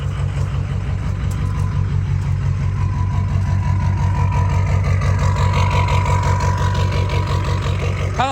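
Ford 6.0 Powerstroke diesel truck engine running at a choppy, uneven idle with the intercooler pipe unsecured, a loud steady low rumble with pulsing chop throughout.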